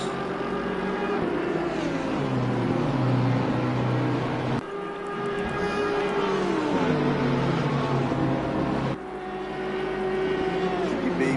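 GT race cars at Monza in the sim racing game Assetto Corsa Competizione roar past in a pack toward the first chicane, loud engine notes rising through the gears with abrupt shift breaks, close and continuous.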